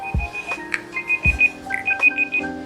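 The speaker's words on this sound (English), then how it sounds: "So we are done and the timer is out." A timer alarm goes off with a run of repeated electronic beeps at a steady pulsing rhythm, close and clear, along with a couple of low thumps and no talking.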